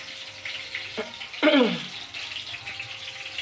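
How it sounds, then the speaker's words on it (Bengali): Fresh jiyel fish fries lightly in a pan of hot oil for a potato curry. A steady close sizzle runs throughout, interrupted by a brief clatter and a short louder burst of spitting. "এই দেখেন এইভাবে তাজা মাছ অল্প অল্প ভাজা দিতে হবে"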